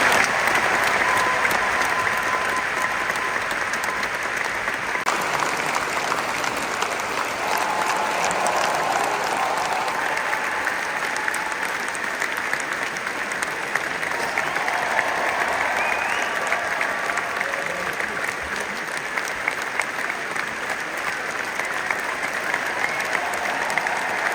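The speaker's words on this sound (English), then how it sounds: "Can we just give everyone at Royal Albert Hall a massive round of applause?" A large audience at the Royal Albert Hall applauds steadily and loudly throughout, a dense, even wash of clapping from a big crowd with no pauses.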